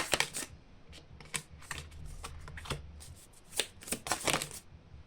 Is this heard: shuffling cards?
yes